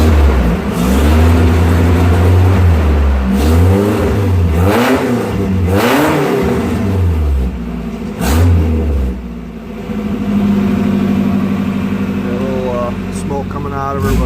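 A Nissan street truck engine revs repeatedly up and down close by, loud rising and falling bursts of throttle between brief idling stretches, with someone talking over part of it.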